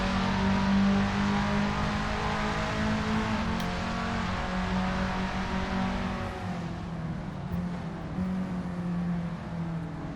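Race car in Assetto Corsa, a Skip Barber at Laguna Seca, accelerating off the start with a steady, loud engine drone, its pitch holding and shifting as the car pulls away, with no talk over it.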